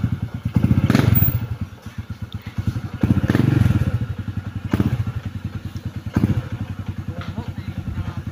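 A Honda Wave 125 motorcycle, reassembled after 18 years, runs on a test ride with a steady, close, putting single-cylinder beat that swells with throttle blips and settles back, loud and rhythmic, with people talking faintly nearby.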